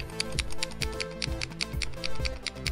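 The focus ring of an 85mm f/1.8 camera lens turning: a fast, regular series of small clicking ticks, close and distinct, over a steady tonal background hum.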